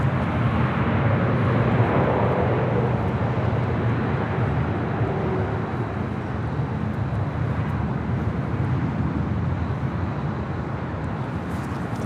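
A Learjet 40 business jet arriving at Los Angeles International Airport, a steady broad roar of jet engines that holds loud and even throughout, alone without talk.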